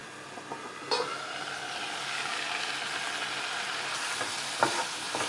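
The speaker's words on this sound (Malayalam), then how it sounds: "ചെറുതായി ഒന്ന് ഇളക്കി കൊടുക്കാം" A spoon stirs pineapple madhura curry in a pan over a steady sizzle, with a few soft scrapes and taps against the pan, close and moderately loud.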